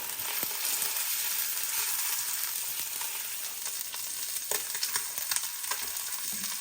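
Sea scallops sear in a hot frying pan, a steady dense sizzle filling the whole stretch with scattered crackles and pops, close and fairly loud with no talk.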